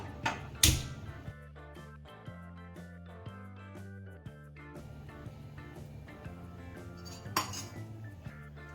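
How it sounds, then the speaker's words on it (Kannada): A kadai set down on a kitchen stove to make poha, a sharp close metallic clank followed by ringing and lighter pan and utensil knocks, with another clank near the end, no voices. "ಫಸ್ಟಿಗೆ ಬಾಂಡ್ಲೆ ಇಟ್ಕೊಳ್ತಾ ಇದ್ದೀನಿ"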